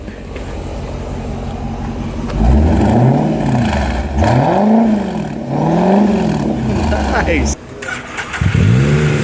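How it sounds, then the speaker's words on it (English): A Ferrari 488 sits close by as its engine revs repeatedly, each rise and fall of the pitch sharp and loud, with short pauses between blips and a brief voice heard over it. "I'm gonna need you to rev this."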